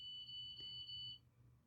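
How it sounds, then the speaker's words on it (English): A small electronic alarm gives one faint, steady high-pitched tone of about a second in a quiet room, then stops and leaves only low background hum. "there was a little alarm there"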